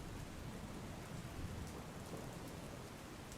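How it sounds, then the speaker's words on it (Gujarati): Dense, steady downpour of heavy rain in Bardoli, Surat, with a constant hiss and low rumble, no voices. "બારડોલીમાં ધોધમાર વરસાદ વરસ્યો છે"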